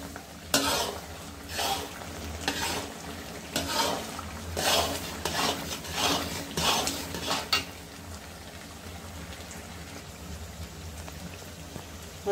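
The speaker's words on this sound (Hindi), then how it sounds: "और इसको मिक्स कर देते हैं।" A spoon stirs pav bhaji masala and a handful of coriander through the mashed vegetables in a pan, giving about six rhythmic scraping strokes over a soft sizzle that then settles into a quieter simmer.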